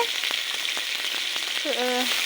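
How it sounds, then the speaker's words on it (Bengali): Onions frying in hot oil in a karahi pan while beef curry is prepared, with a steady bright sizzle throughout, a few stirring clicks and scrapes, and a brief tonal squeak near the end. "পেঁয়াজটা ভাজা ভাজা করে নেবে"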